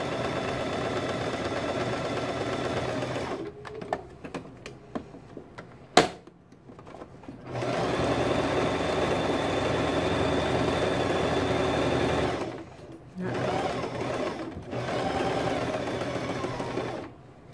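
Sewing machine stitching a mola fabric sample in steady motorised runs, pausing between seams with brief handling noises, close and fairly loud.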